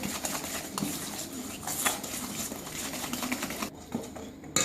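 Sugar, egg yolks, melted chocolate and butter are beaten together in a bowl for a chocolate cake batter, a dense, continuous close clatter of utensil against bowl that stops briefly near the end.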